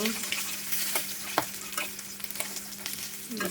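Rohu fish pieces fry in oil in a pan, a continuous nearby sizzle with a few sharp clicks and taps as the pieces are turned, over a faint steady hum, with no talking.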